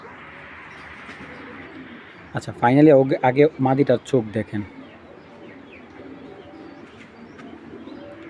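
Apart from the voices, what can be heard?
pigeons cooing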